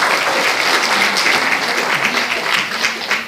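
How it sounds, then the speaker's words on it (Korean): Steady audience applause fills a seminar hall at the National Assembly Library, a dense wash of clapping hands from many people holding at a loud, even level throughout. "박수 부탁드립니다."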